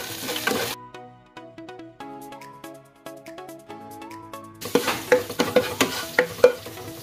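Garlic and ginger sauté in a hot pan, briefly sizzling at the start, then giving way to music before a louder burst of sizzling returns with sharp, rhythmic clacks of stirring near the end.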